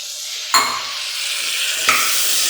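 Tamarind juice poured into vegetables frying in a pan sets off a sudden loud sizzle that keeps hissing steadily, with a second burst of sizzling a moment later, close up.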